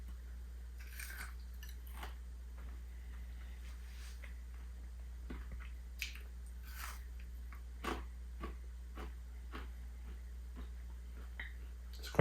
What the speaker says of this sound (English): I'm just gonna bite it so you guys get to hear how crunchy it is